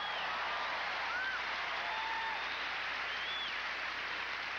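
A large arena crowd applauds and cheers after a women's gymnastics event final routine, a continuous distant wash of clapping with faint whistles, heard as from a broadcast.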